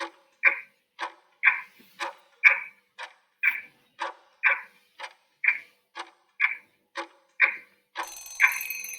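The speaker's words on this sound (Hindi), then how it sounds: "आपका जो टाइमर स्टार्ट हो जाता है." A quiz countdown timer ticks steadily, about fifteen evenly spaced, fairly sharp beeping ticks in a quiet setting, with a brighter, busier sound coming in at the end.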